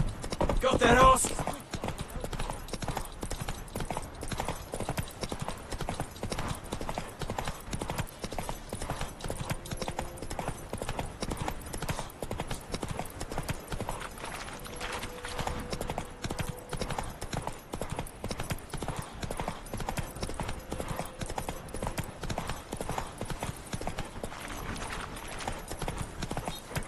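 Horse hooves clip-clop steadily in The Witcher 3 as the mount trots on, an even rhythmic patter lasting throughout at moderate level, with game voices speaking now and then over it.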